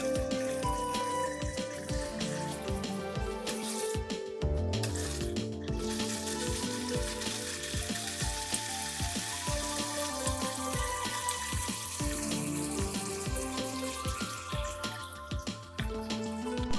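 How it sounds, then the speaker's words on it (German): Bacon and an egg fry in a pan, with a steady crackling sizzle and dense popping spatter throughout, holding at an even level from start to finish. "Jetzt so lange braten, bis der Speck schön etwas knusprig ist und das Ei einigermaßen gestockt ist."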